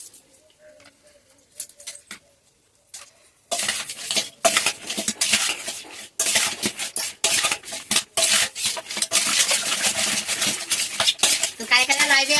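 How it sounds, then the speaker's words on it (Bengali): A fish head seasoned with turmeric and salt fries in a hot wok. After a quiet start, a loud, continuous sizzle breaks out, with metal utensils scraping and clinking against the pan. "আমি মাছের মাথার মধ্যে হলুদ আর লবণ দিয়ে খুব ভালো করে ভেজে নেব"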